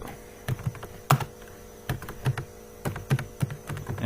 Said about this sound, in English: and we will type